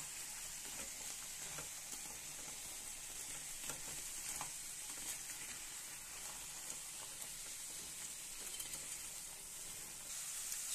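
Curry being stirred in a pan after a spoonful of chili powder goes in, a steady close sizzle of frying under soft, repeated scraping of the spoon, with no talking.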